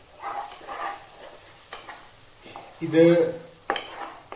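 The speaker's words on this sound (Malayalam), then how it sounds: "പകരം മല്ലിപ്പൊടി നന്നായി ഇളക്കിയിടുക" Coriander powder stirred into kaddu in a pan, soft scraping strokes and a light sizzle, with a louder scrape and clatter of the spoon near the end; a voice speaks briefly.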